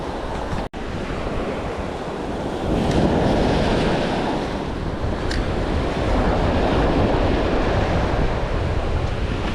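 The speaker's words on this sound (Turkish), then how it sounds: "Dalga durumu gayet güzel." Steady roar of sea waves breaking and washing, loud and continuous, with gusty wind buffeting the microphone throughout.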